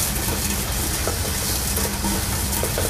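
Cooking oil spread around an old wok sizzles and crackles steadily at close range, a dense continuous hiss with no talking.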